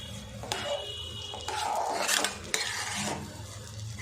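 Rava kesari with melted sugar stirred in a pan, giving soft scraping and clinking strokes of a spoon against metal over a faint background hum, with no talk.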